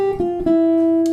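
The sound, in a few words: jazz guitar ii-V-I eighth note lick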